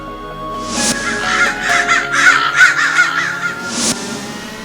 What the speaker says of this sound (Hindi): हाँ, काले कौवे